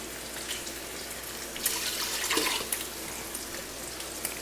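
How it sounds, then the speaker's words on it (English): Four cups of water pour into a soup pot of broth, a brief splashing gush in the middle, quieter drips and trickles around it, close and without speech. "And 4 cups of water."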